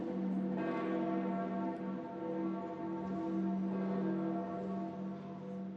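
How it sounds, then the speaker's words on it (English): Church bells toll for a papal funeral, with sustained ringing tones overlapping and decaying into one another, fairly distant and steady across the whole stretch. "Bells tolled as leaders from more than 150 countries took their places for the papal funeral."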